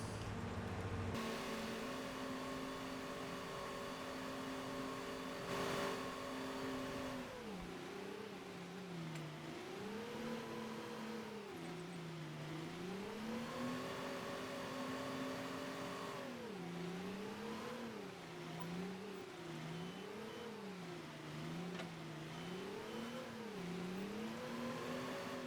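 A combine harvester in Farming Simulator 23 drones steadily while working the crops, its engine pitch rising and falling in repeated waves as it revs and eases, continuous and fairly quiet with no talk.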